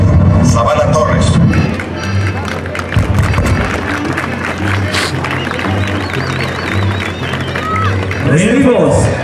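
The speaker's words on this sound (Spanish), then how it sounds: "Fuerte el aplauso para ellos." A rodeo crowd at a bull-riding event in San Isidro, Tepetlixpa, State of Mexico, with bulls from Rancho El Trébol, claps and cheers in a broad, steady wash while an announcer talks loudly over it.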